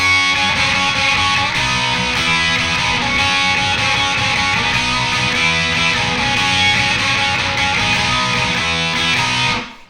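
A loud, distorted electric guitar plays the sustained, fast-moving lead solo from a song continuously, cutting off abruptly at the end.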